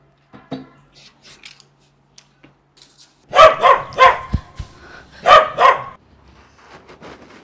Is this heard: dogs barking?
yes